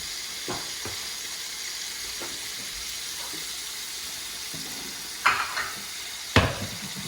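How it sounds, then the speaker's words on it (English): Mushrooms and bacon fry together in a pan, a steady low sizzle running throughout with a few sharper clatters and pops near the end, close up and without talk. "Mushrooms cooking, KK."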